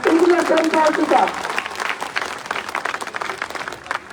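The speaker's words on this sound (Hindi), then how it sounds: "पूरे व्यापार मंडल की तरफ से जोरदार तालियां" A crowd at a BJP political rally in a market in Khetri claps loudly to welcome a guest, with dense applause that gradually thins out while someone speaks over it through a loudspeaker.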